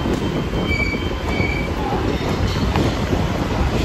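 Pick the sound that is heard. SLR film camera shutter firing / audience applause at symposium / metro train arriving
metro train arriving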